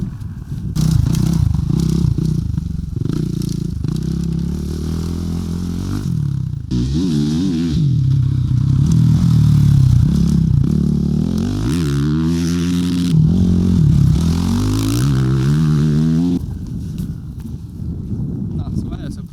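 A motorcycle engine runs close by on a practice track, rising and falling as it revs and slows over the ride, with voices talking over it at times.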